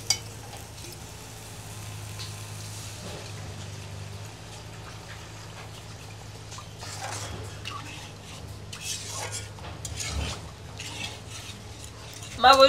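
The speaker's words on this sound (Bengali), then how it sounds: "এখন দিয়ে দেব জল।" Water goes into a pan of tamarind fish gravy with soft stirring, light clinks of a utensil against the pan and a faint simmer, all quiet and close, with no one speaking.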